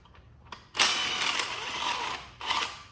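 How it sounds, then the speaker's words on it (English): A Snap-on impact wrench rattles loose the 15mm motor mount bolts on an LS 6.2 engine, a short tap then a loud sustained burst of hammering followed by a second brief burst, close up with no talk. "Using my trusty dusty snap-on impact"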